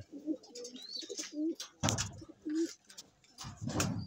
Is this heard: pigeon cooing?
yes